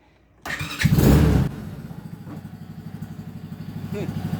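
A Coolster mini jeep's small engine cranks briefly and fires right up without choke, then settles into a rapid, choppy idle with a throbbing pulse, heard close and fairly loud.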